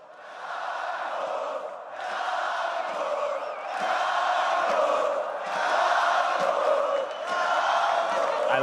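A large arena crowd at a League of Legends All-Stars esports event cheers and roars in sustained waves, swelling and dipping every couple of seconds, loud and unbroken.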